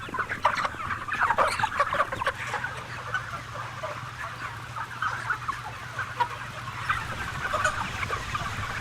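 Broiler chickens crowded in a litter-floored barn, a dense, continuous chorus of clucking and squawks from many birds over a steady low hum of ventilation.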